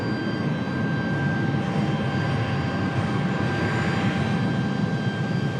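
JetBlue airliner taxiing back to the gate at Raleigh-Durham International Airport, a steady distant jet engine whine and rumble that holds level throughout, with no voices.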